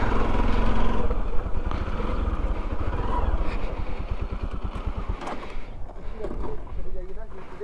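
A motorcycle engine idles and putters close by as the bike is pulled up and parked near Jantwal village at sunset. Rapid, even exhaust pulses run underneath the talk of a rider and passenger before the engine note settles.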